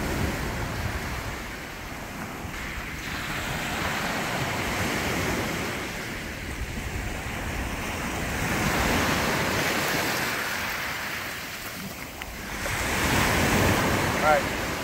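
Ocean surf washes in and out on a black sand beach at Resurrection Bay, Seward, Alaska, in broad, rolling surges, with steady wind buffeting the microphone throughout and no voices.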